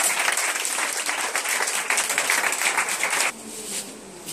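Sustained loud applause from a church congregation acclaiming Jesus, dense clapping that cuts off abruptly and leaves a quieter hall with murmuring.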